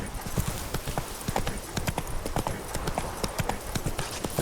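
Roach, a horse in The Witcher 3: Blood and Wine, gallops with steady, rapid clip-clop hoofbeats close by, a loud continuous rhythm with no talk over it.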